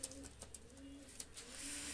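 Pigeons cooing softly after being let out, Teddy and Golden crosses, with low repeated coos running under faint background noise and a steady hiss building toward the end.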